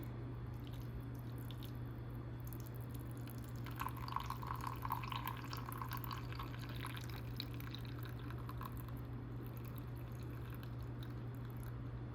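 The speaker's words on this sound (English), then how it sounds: "we're gonna take our teapot and pour in our tea." A quiet stream of liquid pours for a couple of seconds over a steady low hum, like tea poured from a teapot into a cup.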